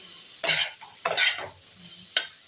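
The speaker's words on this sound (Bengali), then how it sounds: "দিয়ে মশলাগুলো আমি একটু কষে নিচ্ছি" Spices stirred in a hot pan with potato, onion, tomato and mango for a fish curry, three scraping stirs with sizzling bursts, close and clear, separated by a quieter frying hiss.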